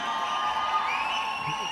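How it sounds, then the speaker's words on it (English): Crowd cheering and shouting at an RRR film event in Kerala, a dense, steady roar of many voices with high whoops and screams rising through it, sustained and fairly distant throughout. "I can hear your applause when they shout your name."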